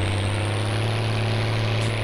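A Swaraj 855 tractor pulling a trolley in Farming Simulator 19 drones with a steady, loud low engine hum under load, continuous and with no talking.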